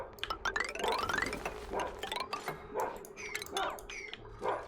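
Dogs bark in a rapid, overlapping burst of yips and bow-wows, fairly close and loud, with several dogs going at once before settling into scattered single barks.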